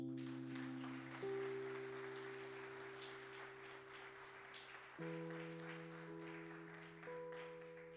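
Church congregation applauding, a faint steady patter of clapping beneath sustained organ or keyboard chords, with no talk over it.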